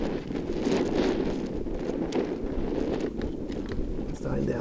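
Strong wind blows steadily outdoors at an air rifle shooting range, a continuous broadband roar buffeting the microphone for the whole stretch without letting up.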